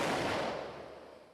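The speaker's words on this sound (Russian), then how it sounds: "Первый выстрел произвел ПК-2, постановщик помех." A single heavy naval gun blast from a jamming-round launcher aboard the battlecruiser Pyotr Velikiy, its sharp boom decaying into a rumbling tail over about a second.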